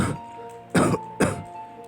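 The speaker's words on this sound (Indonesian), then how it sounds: "sayup-sayup Kudengar seperti ada suara batuk seseorang." Two short, sharp coughs from a person nearby, spaced about half a second apart, following a softer throat sound.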